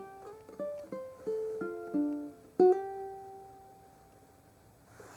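Ukulele picking the Animal Crossing New Horizons riff: a short run of plucked single notes followed by one brighter ringing note that slowly decays, played close and quietly with no voices.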